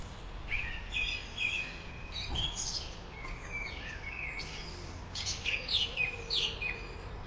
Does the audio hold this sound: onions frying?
no